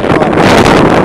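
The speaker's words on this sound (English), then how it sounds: "I suppose it's the wind." Strong wind buffets the microphone on the Essex coast near St Osyth, a loud, steady low roar of gusting air filling the whole short moment.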